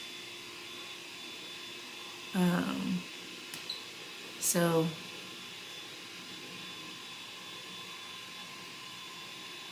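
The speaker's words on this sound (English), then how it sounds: "If y'all hear like a blow dryer, it's my mom." A steady whirring hum of a hair dryer runs throughout, muffled as if from another room, with a couple of brief spoken words over it.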